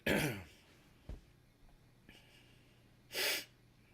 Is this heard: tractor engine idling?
no